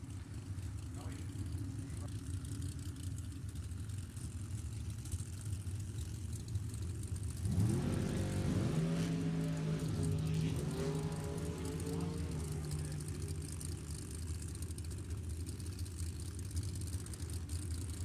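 A red Chevy Corvette with a 632-cubic-inch engine roaring off the line at a nostalgia drag race, a loud engine surge in the middle beneath constant announcer talk and crowd noise.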